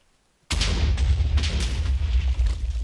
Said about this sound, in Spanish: Acabo de escuchar explosiones.